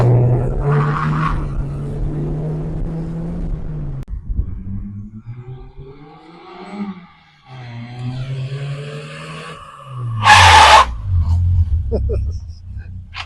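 Peugeot 106 Rallye revving and pulling away, a loud engine drone rising and falling with a sharp burst of revs near the end, while people talk over it.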